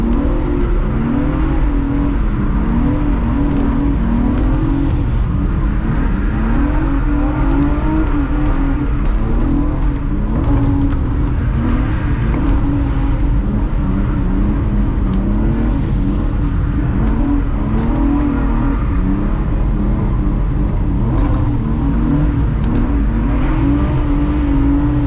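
A drift car running a lap at a drift day event, its engine droning and revving loudly and continuously with no pauses, the roar fluctuating as the throttle rises and falls.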